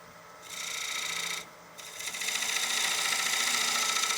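A 3/8 bowl gouge cuts a dovetail into a wooden bowl on a lathe, making a quiet scraping rasp in two bursts, a short one, a brief pause, then a steadier longer cut.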